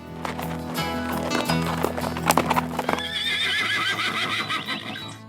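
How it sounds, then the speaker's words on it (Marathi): Horses at the Sarangkheda horse market in Maharashtra: hooves clop in uneven beats up close, then a horse lets out a long, wavering whinny over a low steady background. "घोडे बाजार आणि घोडे बाजारातील विविध जातीचे उमदे घोडे"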